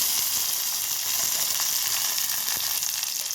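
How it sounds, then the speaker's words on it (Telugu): Green chillies, curry leaves and tomatoes fry in hot oil in a pan for tomato dal, giving a steady, close, even sizzle with faint stirring and no talk. "తర్వాత పచ్చిమిర్చి వేయాలి తర్వాత కరివేపాకు వేయాలి తర్వాత టమాటా వేయాలి ఇవన్నీ వేసిన తర్వాత కొంచెం వేగనివ్వాలి"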